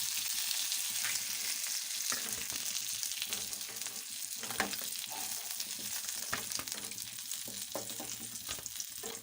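Fish frying in oil for a Bengali fish dish gives a close, continuous sizzle, broken by scattered sharp clinks and scrapes of a utensil stirring and turning the pieces in the pan.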